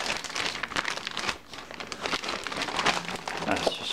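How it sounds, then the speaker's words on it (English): Plastic bag being sealed inside another plastic bag, close crinkling and rustling of film in quick irregular bursts throughout. "Now that I've cut open into this bag, I'm going to reseal the bag in another bag."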